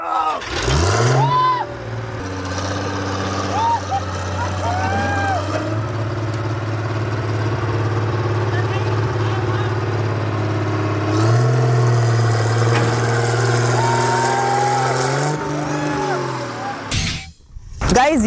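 A road roller's diesel engine runs with a steady heavy drone while the machine is driven up onto a car in an extreme crushing experiment. The engine rises and revs loudly in a few surges across the stretch, and voices are heard over it.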